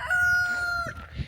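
Chickens on a compost pile, with one loud, close rooster crow followed by a brief cluck, heard alone.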